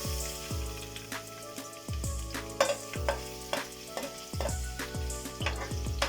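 Garlic fries in hot oil in a pan while a utensil stirs it, giving steady sizzling with regular scraping knocks, close and moderately quiet.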